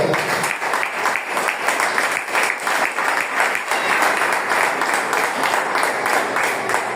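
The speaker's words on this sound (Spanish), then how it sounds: "Palmas a Dios, aleluya." A church congregation applauds God during a sermon on divine healing, with dense, steady clapping that stays loud and continuous throughout.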